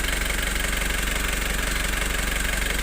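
A Foton Traveller van engine idles after a general overhaul, a steady, even rumble with a regular fast pulse, close and constant throughout with no talk.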